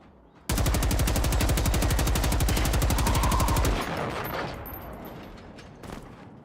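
PKM machine gun from the video game Generation Zero firing one long, loud, rapid sustained burst of about three seconds, then cutting off into a ringing, fading tail.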